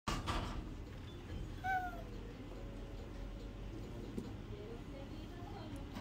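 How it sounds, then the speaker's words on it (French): A cat meows nearby indoors, giving a couple of short, fairly faint meows over a quiet room hum with no clear talk. "il y a carrément un chat qui est avec nous"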